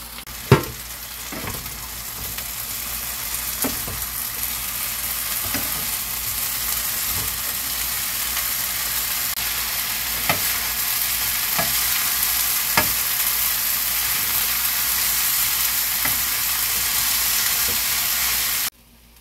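Korean potatoes (gamja bokkeum) with sesame oil stir-fried in a pan, a steady loud sizzle with periodic sharp clacks of the utensil scraping and tapping the pan, no talking.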